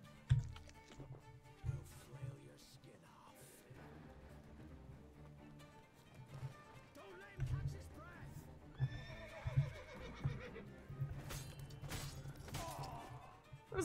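A horse whinnies amid clip-clopping hooves and game sound effects in The Witcher 3: Wild Hunt, with a person talking and keyboard tapping underneath.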